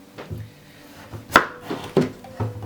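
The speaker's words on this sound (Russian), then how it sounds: "Я нарезаю на кусочки." A knife chops pumpkin into pieces on a cutting board several times in an uneven rhythm, solid thuds up close with a couple of sharper chops.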